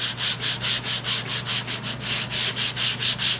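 Body filler on a second-generation Camaro door is sanded by hand in quick back-and-forth strokes, each pass a crisp scratchy rasp, about four per second, close and loud over a faint steady hum.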